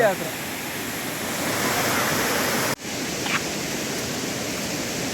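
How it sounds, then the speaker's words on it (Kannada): Chamadka Falls, a waterfall, roaring as a steady broadband rush that fills the scene, close and loud, with a brief dropout midway and a faint voice in the background. "ಇಲ್ಲ ಹತ್ತಿರ ಒಂದು ಫಾಲ್ಸ್ ಉಂಟು"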